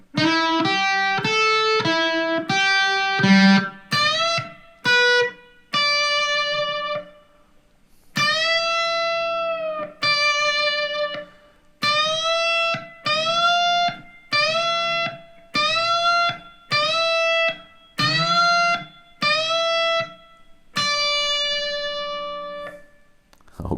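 Electric guitar plays a lick, repeated string bends of a whole step and more all landing on the same note, clean sustained phrases separated by short pauses.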